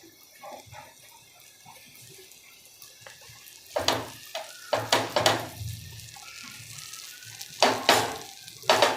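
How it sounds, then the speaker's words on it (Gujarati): Butter heating in a pan over a low gas flame while making dabeli, with a soft sizzle that swells into several louder bursts of frying crackle toward the end. "બટરને ગરમ કરીશું. ગેસની આંચ ધીમી જ રાખીશું."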